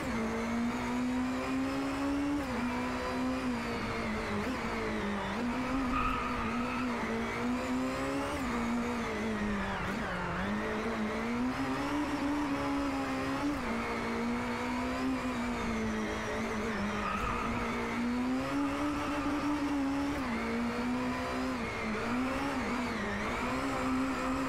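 A futuristic race car in the Do The Time video game drives continuously, its engine holding a smooth, high, spaceship-like whine that rises and falls gently with speed, steady and loud throughout.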